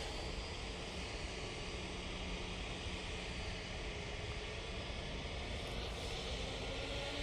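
Jet2 Airbus A321 taking off at Manchester Airport, a steady broadband engine roar that holds loud and even throughout, with no voices over it.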